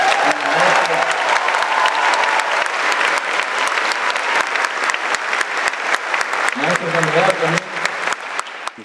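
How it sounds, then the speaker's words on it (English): Audience applause for the Venice Symphony Orchestra at a concert with a mariachi band, a dense sustained crowd clapping with scattered cheers, continuing under talk and vocal sounds. "I want a big, big round of applause for the Venice Symphony Orchestra."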